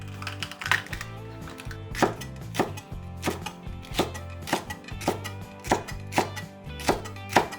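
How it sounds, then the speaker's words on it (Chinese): A kitchen knife julienning lettuce stem, carrot and flattened green pepper on a cutting board for Sichuan fish-fragrant pork, giving a steady run of about a dozen crisp, close chops at an even rhythm with no talk. "莴笋切薄片，再切成细丝；胡萝卜切成细丝；青椒压平切细丝"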